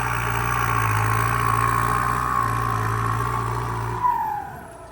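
Ford tractor engine upgraded with a big turbo: a steady, loud mid-pitched engine drone with a high turbo whine layered on top, holding for about four seconds before dropping away.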